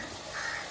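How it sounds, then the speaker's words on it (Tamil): A single crow caws faintly once, somewhere outside a home. "காக்கா கத்தினே இருக்கு."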